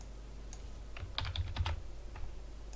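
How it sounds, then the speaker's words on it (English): Computer keyboard typing, a short burst of quick clicky keystrokes in the middle of a quiet stretch, with a few isolated taps before and after, close and fairly soft. "While just typing DEU there, click OK"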